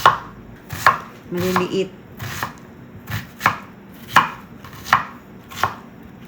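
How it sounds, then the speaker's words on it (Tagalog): A knife chops an onion on a board while a home cook makes shepherd's pie: about eight crisp, evenly spaced strikes, close and clear, with a single brief spoken word partway through. "chop din natin ang ating sibuyas"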